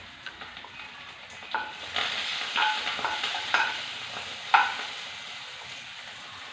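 Sliced shallots sizzle in a small pan of oil as a tempering for a coconut-ground sardine curry, a moderate crackling hiss with several sharp spattering pops and stirring knocks, rising and easing back near the end.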